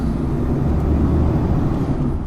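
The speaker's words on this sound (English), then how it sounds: "Truck's been very loud at the minute." Loud, constant truck engine roar from inside or right beside a big truck, with a steady high whine that may be the turbo blowing out, dense and unbroken throughout.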